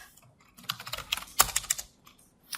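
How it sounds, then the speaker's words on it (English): Fingers type on a computer keyboard during a number theory lecture, a quick run of soft close key clicks in an irregular burst, then a pause before a few more taps. "is a weird keyboard for me, and I'll admit I'm a little nervous, so I might type a little poorly today"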